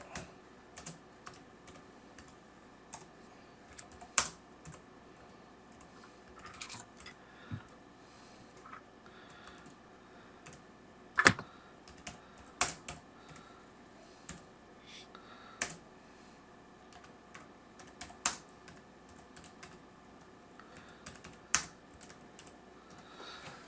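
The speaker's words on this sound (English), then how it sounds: "Sorry, I was typing. I was writing it down." Someone types on a computer keyboard in irregular bursts of soft clicks, with a few sharper, louder keystrokes scattered over about twenty seconds, close and clear with no voices.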